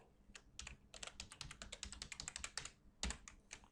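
Rapid typing on a computer keyboard while writing Python exception-handling code, with close, crisp key clicks in uneven bursts and a louder keystroke near the end, and no talking.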